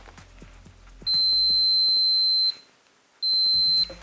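A multimeter on a continuity test during an Acorn BBC Model B repair gives two sustained high electronic beeps, the first about a second and a half long, the second shorter, with faint clicks of the probes around them.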